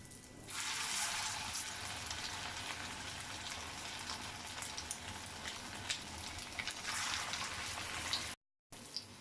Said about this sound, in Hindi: अब हम इसमें कबाब फ्राई करेंगे।